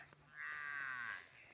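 Cattle at a village wetland beside a pond give a single drawn-out moo, fairly close and clear against a quiet open-air background.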